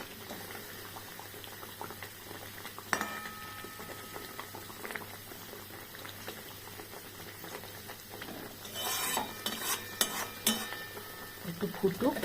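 Pabda fish simmering in a spicy oil curry, a steady low bubbling and popping that holds throughout, with a few clinks of a utensil and louder spattering bursts near the end.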